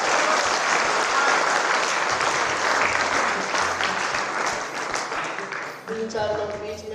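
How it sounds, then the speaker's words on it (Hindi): A large audience at a poetry recital in Sitapur breaks into loud, dense applause that sustains for several seconds, slowly thinning toward the end as a voice starts to speak. "एक बार मेरे सम्मान में भी ढंग से ताली बजाओ"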